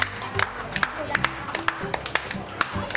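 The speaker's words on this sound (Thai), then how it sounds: "ปรบมือให้กับคุณโตมากิซึ่งของเราหน่อยครับ" Audience applause at a children's sushi-making activity at a Japanese-style restaurant in KidZania Bangkok, with scattered claps forming a light, uneven patter over murmuring voices and background hubbub.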